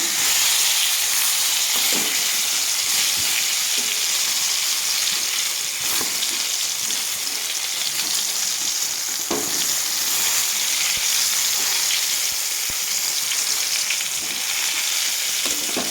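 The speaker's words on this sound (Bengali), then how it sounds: "লাল লাল করে আমি বেগুনগুলো ভেজে নেবো" Eggplant slices sizzle loudly and steadily in a hot pan, with a dense, continuous hiss of frying oil and occasional faint stirring knocks, no voices over it.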